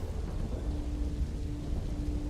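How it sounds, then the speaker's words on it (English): Rain falling in the video game Observer System Redux, a steady, dense hiss of downpour with a low rumbling underneath and a faint constant tone, no voices. "It's only raining on the side that, like, it would be blowing in from."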